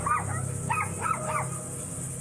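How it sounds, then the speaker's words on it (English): Two dogs in a neighbour's house bark in a few muffled, moderately distant yaps over a steady background hum. "These two dogs are barking because she's over there."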